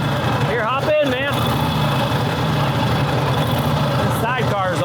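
An old flooded Harley flathead motorcycle with a sidecar, rebuilt after sitting ten years, idling with a steady low rumble close by while people talk over it.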